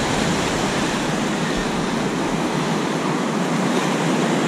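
Ocean surf rolls onto Playa Chipana near Iquique, a loud continuous broadband wash of breaking waves with no pauses, close and steady for the whole stretch.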